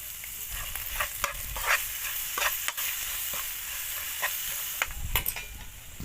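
A spoon stirs a simmering fish soup with tamarind leaves and seasonings in a pot, giving soft scrapes and sloshes over a constant bubbling sizzle, with no talk.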